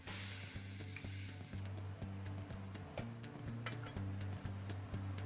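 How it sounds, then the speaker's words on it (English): Cauliflower simmers with curry paste and coconut milk, giving a dense, steady bubbling sizzle, with a faint rhythmic low droning pattern beneath and a few soft ticks and clinks. "The chef then adds 2 big teaspoonfuls of the curry paste and 200 milliliters of coconut milk. Leave it to simmer for a short while."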